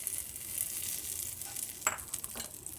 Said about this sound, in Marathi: आपली चटणी देखील खूप छान झालेली आहे त्याच्यात हा तडका घालायचा आहे